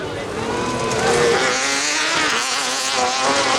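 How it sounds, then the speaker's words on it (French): Maxi tourisme autocross race cars, including a Renault Mégane, battle on a dirt track during the 2023 final at Saint-Georges-de-Montaigu. Their engines roar loud and steady throughout, with a commentator speaking over them. "On voit les voitures qui se travaillent un petit peu sur la piste"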